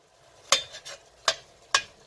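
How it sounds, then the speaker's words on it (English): Onions cooking down in a pot for vegetable beef and tortellini soup: three sharp spoon knocks against the pot over a faint, quiet sizzle. "we're just going to cook this down a little bit till the onions just start turning a little bit translucent"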